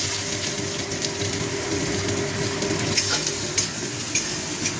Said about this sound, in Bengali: শুকনো লঙ্কা ফোড়ন দিলাম, গোটা জিরে দিচ্ছি আর দিচ্ছি পেঁয়াজ